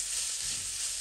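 Onion and carrot fry in a pan with a brief, even hiss of sizzling oil. It sounds close and steady throughout, with no voices.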